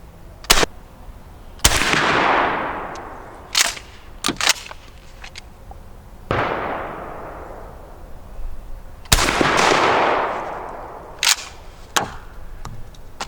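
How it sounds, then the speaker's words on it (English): A shotgun fires birdshot at a target, producing a string of about eight loud, sharp blasts. The shots come at irregular intervals, and each one rings out with a long echoing decay. "There goes double-aught buck. Here comes the birdshot."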